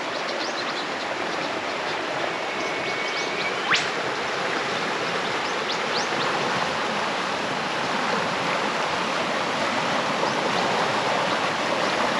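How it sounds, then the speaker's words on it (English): Steady broadband rush of a river flowing past tall manna gum trees in the Buckland Valley, a continuous close wash of water with no break and a few faint bird chirps above it. "And here's the river."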